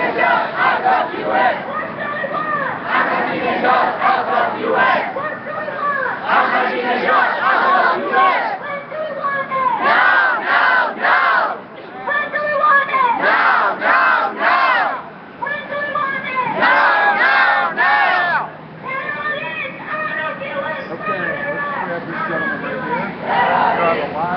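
A street protest crowd in New York City chants against Ahmadinejad, loud rhythmic shouted phrases repeating in bursts with short pauses, crowd noise filling the gaps.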